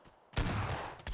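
Shotgun blasts in PUBG on PS5, one loud booming shot ringing out briefly, then a second blast starting right after, close and with no talk over it.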